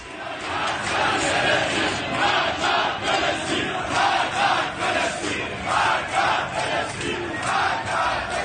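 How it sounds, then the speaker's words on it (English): A large crowd in Iran chants in unison, a dense roar of many voices rising and falling in a repeated rhythmic slogan, loud and sustained throughout. "Crowds in Iran were chanting yesterday, and what they are actually chanting is death to Palestine"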